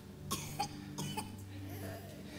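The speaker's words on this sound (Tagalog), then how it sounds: "Oh, may ubo-ubo pa." A few short, quiet coughs in quick succession from a young child, close by, followed by soft breathy sounds.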